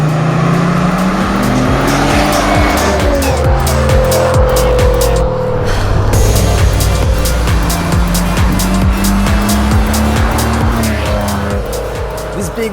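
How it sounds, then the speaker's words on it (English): An Italian supercar in sport mode with its exhaust valve open revs and roars up and down through gears, loud and close with tire squeal, while a voice talks over it. "It also opens up a valve in the exhaust, making that sweet, sweet sound even sweeter."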